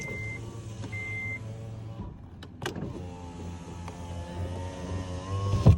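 The passenger-side power window of a 2006 Acura RSX Type-S in Orange Blaze runs with a steady electric motor whir. A brief sharp clunk breaks it partway through, and the motor hum picks up again, close and fairly quiet.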